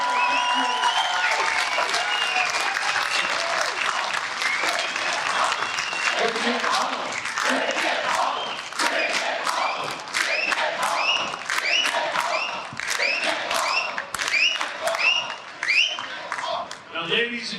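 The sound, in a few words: applause and cheering at a political rally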